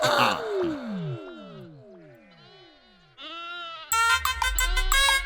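A pregnant goat with a swollen belly bleats in a drawn-out, wavering cry that slides down in pitch, followed by shorter nasal bleats, close and fairly loud, with a busier burst of noise at the end.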